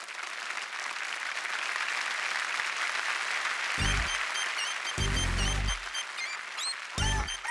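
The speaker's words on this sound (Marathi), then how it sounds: "जोरदार टाळ्या झाल्या पाहिजेत" Applause from a TV game show studio audience, a dense crackle of clapping that rises and swells across the clip, punctuated by several short bursts of bright music stings.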